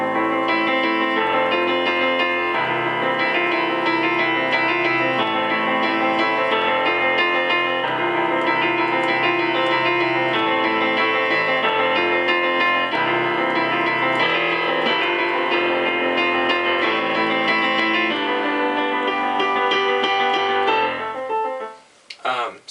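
Piano playing verse 2 of a song, outlining the chords rather than the melody. Steady broken-chord patterns run continuously at an even volume and cut off abruptly at the end.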